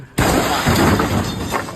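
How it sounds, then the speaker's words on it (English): A car crash plays back from a video, heard as a sudden loud smash after a short quiet lead-in, followed by a sustained noisy crunch that fades slightly over under two seconds. "So this is the guy crashing."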